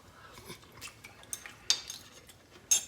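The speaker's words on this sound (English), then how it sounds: "Get a little tasting spoon out here again." A small metal tasting spoon clinking against a pot while cooking cauliflower dirty rice, several light scattered taps and two sharper clinks, quiet and without talk.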